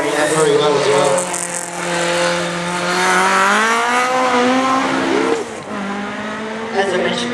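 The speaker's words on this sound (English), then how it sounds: "we've got this little RS 2000 Crossworth coming backwards again now, little Ford Escort, Lloyd, and he's been driving that very well" Ford Escort RS 2000 Crossworth rally car racing on tarmac, engine note rising and holding steady at close range, with a commentator talking over it throughout.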